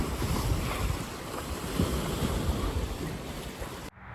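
Lake waves wash and churn against the shore with gusty wind buffeting the microphone, a broad continuous rush that cuts off sharply at the end.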